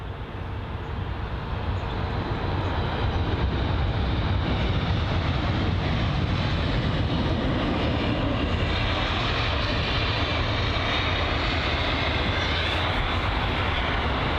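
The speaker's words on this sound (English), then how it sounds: "the first one's going to be the BA A319 from Gothenburg" British Airways Airbus A319 jet arriving from Gothenburg at London Heathrow, a loud, continuous broadband engine roar holding steady across the whole stretch.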